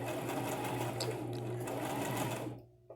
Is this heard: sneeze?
no